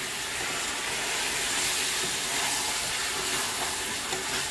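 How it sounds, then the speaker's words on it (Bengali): Mutton curry with potatoes cooking in a pot, giving a steady, dense sizzle and frying hiss that stays even and fairly loud throughout, with no talk over it. "দাদা রান্না করছে, এখনো মাটনটা হয়নি"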